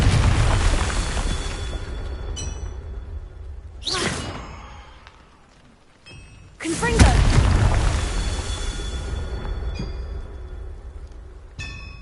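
A Confringo fire spell in the video game Hogwarts Legacy sounds two loud, whooshing bursts, the second bigger and more booming, over a steady rumbling game soundscape with brief mechanical clicks.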